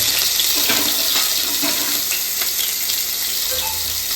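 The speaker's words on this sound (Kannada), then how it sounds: "ಶುಂಠಿ ಬೆಳ್ಳುಳ್ಳಿ ಪೇಸ್ಟು ಎಣ್ಣೆ ಹಾಕಿದ್ದಾರೆ ಪ್ಯಾನ್ಗೆ." Ginger garlic paste frying in oil in a pan gives a bright, steady hiss with light crackles and a few stirring touches, close and continuous, with no talking.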